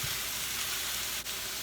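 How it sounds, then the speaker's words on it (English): Meatballs brown in hot oil in a frying pan, giving a soft, steady sizzle with one brief clink near the end. "I put all of my meatballs into the frying pan for browning"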